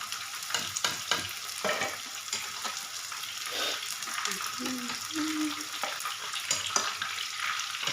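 Onions frying in a home kitchen pan, a soft continuous sizzle with occasional stirring clatter and faint background sounds, fairly quiet and without clear speech.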